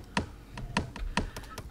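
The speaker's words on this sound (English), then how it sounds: "So I just got to pull out my keyboard." Keys tapped on a computer keyboard inside the remastered point-and-click game Full Throttle, a handful of sharp, evenly spaced clicks with a faint ringing edge over a low background hum.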